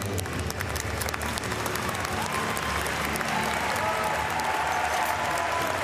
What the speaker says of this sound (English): And gets a thoroughly deserved round of applause from this crowd.